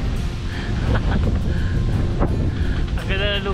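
Steady, loud wind buffets the microphone in a continuous rushing roar on a coconut farm, with faint background sounds and no clear speech.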